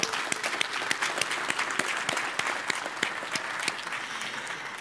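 Steady applause from a large conference audience at a mobile industry congress morning session, dense clapping at moderate level, sustained throughout with no voices over it.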